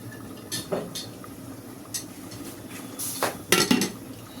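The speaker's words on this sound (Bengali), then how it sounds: "আমি একটা ফ্রাই প্যান বসিয়ে নিয়েছি, তেল দিয়েছি।" A frying pan with oil is set down on a kitchen stove before prawns are fried, giving a few sharp metallic clanks and clinks of cookware, close and clear, with no talking.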